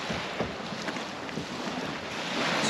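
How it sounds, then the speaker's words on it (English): Strong wind blows at a lake shore where waves roll in, roaring steadily across the mic with rumbling buffets and a constant rush of air, loud and close. "The wind is blowing directly at us."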